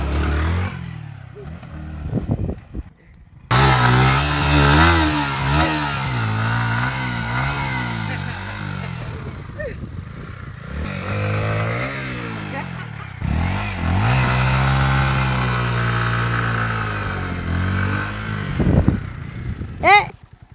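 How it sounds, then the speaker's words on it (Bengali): A newly bought motorcycle is ridden, its engine revving up and down in repeated rising and falling surges, loud and close, with a brief clatter near the end. "আমার স্বপ্নের বাইকটা দেখো কিভাবে দৌড়াচ্ছে"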